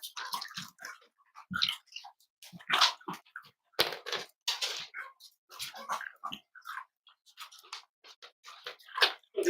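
Excited puppies over ice, with irregular close sniffing, snuffling, crunching and little whimpering bursts in quick succession, with no steady background.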